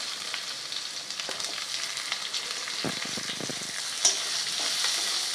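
Onion sautéing in oil after ginger and garlic for a spicy drumstick curry, a steady close sizzle with scattered spatula stirs and scrapes and one sharp clink near the end; no talking.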